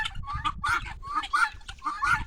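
Guinea fowl giving repeated harsh alarm calls after a hawk attacked the pigeons, a rapid series of loud, grating cackles in bursts, close by.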